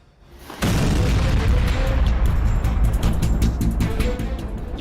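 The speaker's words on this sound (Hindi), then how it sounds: "ये यूक्रेन के ड्रोन का धमाका है, हुआ रोमानिया में है।" Explosion of a Ukrainian drone in Romania, a sudden heavy boom that breaks in and becomes a sustained loud, low rumble, with crackling noise on top.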